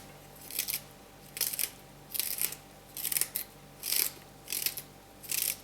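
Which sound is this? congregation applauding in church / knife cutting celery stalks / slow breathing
knife cutting celery stalks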